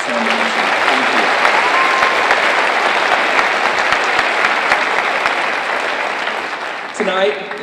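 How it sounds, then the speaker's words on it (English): A large audience at an academic awards evening for students gives sustained applause to the Sound Management crew, a dense, loud clapping that fades slightly near the end as a voice begins speaking. "about another big round of applause for Sound Management?"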